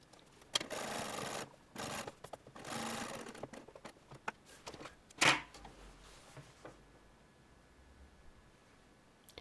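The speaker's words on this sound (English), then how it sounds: "Stitch the other front to just past the marker pin." A sewing machine stitching the front of a shirtwaister dress, running in several short bursts separated by pauses, with a sharp click partway through and no talking, fairly quiet overall.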